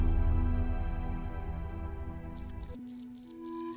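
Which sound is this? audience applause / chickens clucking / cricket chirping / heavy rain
cricket chirping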